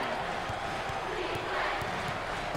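A basketball arena crowd at an NCAA March Madness second-round game roars in a steady, loud wash of cheering and shouting that fills the whole moment.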